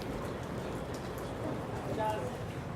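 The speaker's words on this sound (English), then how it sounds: "it was raining." Rain falls at Milford Sound in New Zealand, a dense, steady hiss of drops heard close and even throughout, with a voice talking over it.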